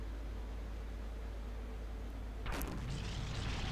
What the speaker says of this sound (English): Whoa, that's the sound of artillery.